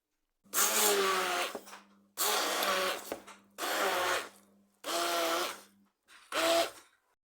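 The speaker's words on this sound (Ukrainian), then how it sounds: "і перебиваю все блендером." A blender whirs through cottage cheese, sugar and eggs in five separate bursts with short pauses between, loud and close, its motor pitch shifting as the mixture thickens.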